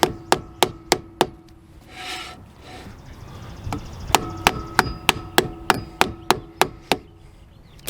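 A screwdriver handle raps a camper wheel bearing part into place: sharp, evenly spaced knocks, a run of four, a pause with faint scraping, then a quicker string of about a dozen taps, close and loud.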